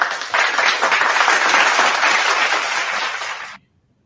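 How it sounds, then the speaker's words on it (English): Studio applause and clapping from an audience, a steady loud burst lasting about three seconds before cutting off abruptly into silence. "Give yourself a round of applause, Eric."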